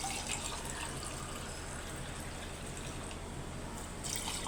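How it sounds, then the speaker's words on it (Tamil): Warm amla (gooseberry) juice poured from a kitchen vessel into a glass, a steady, close splashing stream that runs without a break for the whole stretch. "இப்போ கிளாஸில் ஊற்றிக்கலாம்."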